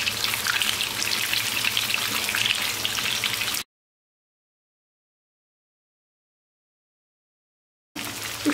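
Eggplant slices frying in hot oil crackle with a dense, steady sizzle, close and fairly loud, before cutting to silence for several seconds and then briefly resuming.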